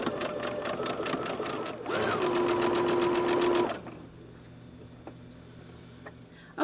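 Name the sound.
sewing machine stitching doll dress gathers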